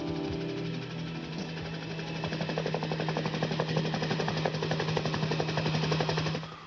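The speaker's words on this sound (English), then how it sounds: "A National Guard helicopter on search and rescue spotted them." A National Guard search-and-rescue helicopter's rotor thuds in a fast, steady rhythm over a droning engine, growing louder and holding close before cutting off.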